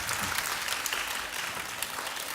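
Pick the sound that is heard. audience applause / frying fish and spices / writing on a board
audience applause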